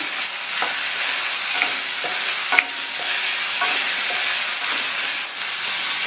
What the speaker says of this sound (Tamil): அடுத்து வேக வச்ச காலிஃப்ளவரை சேர்த்துட்டு நல்லா ஒரு பரட்டி விட்டுலாம்.